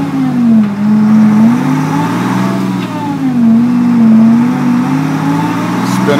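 A 1986 Chevy one-ton 4x4 truck with a Whipple-supercharged Detroit 6V53 diesel revs on a dyno in Ontario, a loud, steady engine drone whose pitch rises and falls in repeated sweeps as it runs through the gears.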